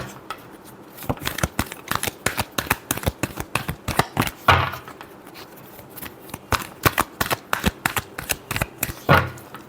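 A deck of tarot cards being shuffled close up: rapid irregular bursts of riffling and flicking with brief pauses between runs and a few louder slaps, no voices.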